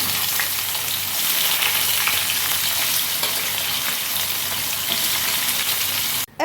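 Potatoes and bitter gourd fry in a pan with a loud, steady sizzle that fills the whole stretch, ending with a short clatter; no voices.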